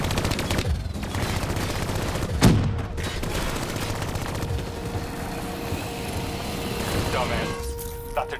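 Dense, continuous combat gunfire in Call of Duty: Black Ops 3, with rapid automatic bursts under a voice giving orders and a steady whirring engine drone throughout.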